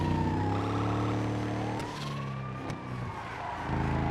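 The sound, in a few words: ambulance siren in a video game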